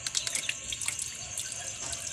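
Tap water runs steadily in an outdoor kitchen in a rural Philippine province, a close, bright splashing stream with small drips and gurgles throughout.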